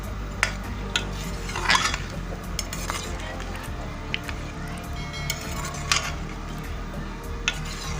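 Chicken and potato pieces roasting in a spiced masala in a pan, with metal utensil clinks and scrapes against the pan over a low sizzle, repeated stirring strokes throughout.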